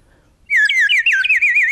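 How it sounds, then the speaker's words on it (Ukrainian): A nightingale sings alone after a moment of quiet, a clear, close, loud warbling and trilling phrase on a calm, warm night. "Соловейко співає"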